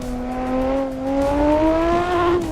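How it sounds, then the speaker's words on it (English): Lotus V6 engine in a racing video game, a steady loud drone rising gradually in pitch as the car accelerates, then dropping briefly near the end, with no talk. "Oh, Harry, this is a V6 from, this is a Lotus"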